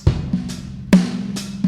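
Studio drum kit run through a Vulf compressor, with punchy kick and snare hits and a thick, pumping low sustain filling the gaps between four or five strikes, the sound slightly crushed and gritty; no one speaks.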